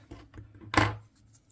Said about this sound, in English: I'm going to just cut that piece